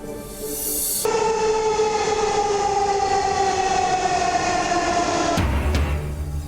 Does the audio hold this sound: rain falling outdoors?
no